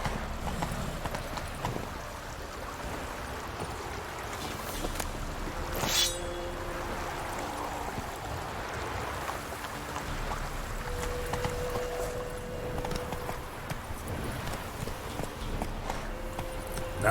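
Roach, the horse in The Witcher 3 video game, gallops with steady rhythmic clip-clop hoofbeats over a continuous ambient backdrop, a brief sharp burst near the middle, and faint talk underneath.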